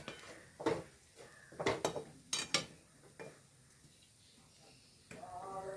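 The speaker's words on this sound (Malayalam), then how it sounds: "ഇളക്കി കൊടുത്തിരിക്കുന്നു." Cabbage upperi is stirred in coconut oil in a pan, with several sharp scrapes and clinks of a utensil against the pan in short bursts, then a soft, steady frying hiss.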